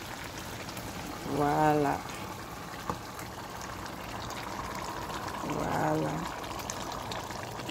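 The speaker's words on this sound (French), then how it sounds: "Maintenant on va déverser le poisson que on a préparé dans la marmite." Prepared fish tipped into a pot of simmering Congolese pondu cooked with vegetable oil, a steady bubbling simmer throughout with a short voice speaking twice over it.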